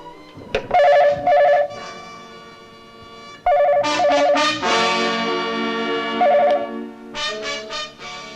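A telephone rings in repeated electronic bursts, loud and close, with tonal beeps and pauses between rings.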